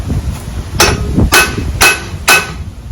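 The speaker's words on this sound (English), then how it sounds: "I'm going to hit it with 3 licks with the ball peen hammer" A ball peen hammer strikes a flywheel on a crankshaft three times, each sharp metallic clang loud and close, spaced about half a second apart, with no talking.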